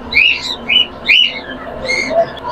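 Java sparrows and other caged birds at a bird market give several short, bright chirps and whistled calls in quick bursts, close and clear over a faint background murmur.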